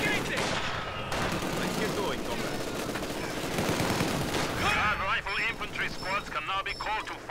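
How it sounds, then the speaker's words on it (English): Mortar fire and a dense battle rage in the Company of Heroes 2 video game, with loud repeated blasts and rattling gunfire layered throughout and a voice talking over the combat. "Three mortar squads are hitting their north."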